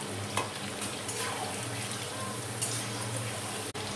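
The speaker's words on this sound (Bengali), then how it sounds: "দেখুন এইভাবে আমি সমস্ত চিকেন পপকর্নগুলো ভেজে নেব।" Chicken popcorn deep-frying in hot oil, a continuous close sizzling hiss with faint bubbling and a few light stirring clicks.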